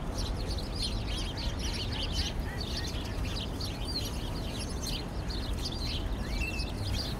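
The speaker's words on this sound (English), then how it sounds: "Got some beautiful wood ducks across the way too." Wood ducks give repeated soft squeaky calls from across a park pond, faint and distant over a steady outdoor background hum.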